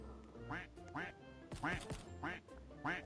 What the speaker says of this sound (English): I love just getting the duck noise and just quacking.